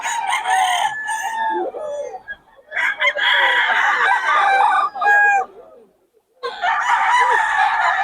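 Several roosters crow loudly and close by in repeated bursts, calls overlapping and breaking off with short silences between, while a voice speaks faintly underneath.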